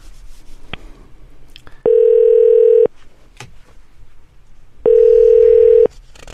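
A Korean telephone ringback tone sounds twice as a call connects for a phone interview. Each ring is a steady one-second tone, separated by a few seconds of quiet line with faint handling noise.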